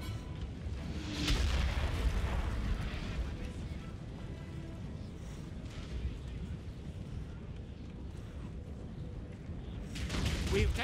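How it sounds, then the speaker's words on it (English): Cannon artillery fire in the Napoleon Total War video game: deep booming blasts and rumbling bursts from a battlefield, a couple of stronger reports standing out over continuous low battle noise, with no talking. "Cannon, switch over to ball. Shoot at the enemy general if you can."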